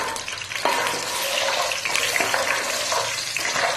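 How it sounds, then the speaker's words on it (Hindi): Wadiyan, dried lentil dumplings, fry in oil in a pan with a bright, crackling sizzle and a few scraping stirs, close and fairly loud throughout. "ये बड़ियाँ मैं फ्राई कर दूँगी ऑयल में।"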